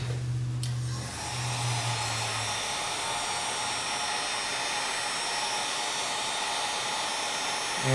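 A heat gun blowing hot air to shrink heat-shrink tubing over a crimped wire connection: a loud, steady rushing roar runs throughout, with a low hum underneath for the first couple of seconds and no talking.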